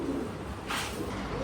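Pigeons in a breeding loft, with a soft cooing murmur and a brief brighter flutter or call midway, continuous and close with no talk.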